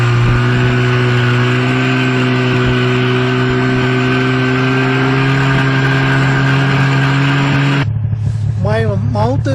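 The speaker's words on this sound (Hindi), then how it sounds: "How to ride the snow bike." A snow bike engine runs during a ride in the snow at Kundori, its loud, steady humming drone holding for several seconds before cutting off as a person starts talking.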